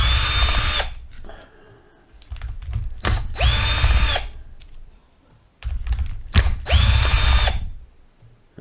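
Worx cordless drill driving screws back in during a tear-down rebuild: three loud whirring bursts with rising motor whine, each about a second long, separated by quieter clicks and handling noise.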